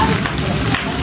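Beef stir-frying in a pan with dried chili, soy sauce and oyster sauce, a steady close sizzle with faint scraping.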